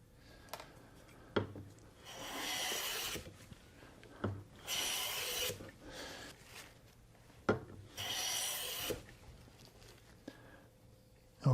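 A hand plane shaves wood during a furniture build, making several separate rasping strokes about two seconds apart, each with a sharp knock at the start. The strokes are close and clear in a quiet room with no talking.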